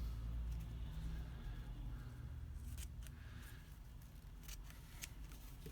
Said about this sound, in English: I'm then going to just roughly cut out this flower